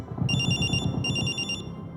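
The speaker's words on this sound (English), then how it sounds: "phone rings." A phone rings in two bright electronic trills, each about half a second long, over a low steady background rumble with no talk.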